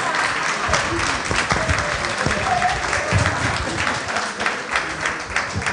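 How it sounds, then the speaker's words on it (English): Steady, dense applause from an audience after a speaker at a university content creation masterclass, sustained clapping throughout with a murmur of voices and cheers blended in. "Your principal is on her feet clapping for you."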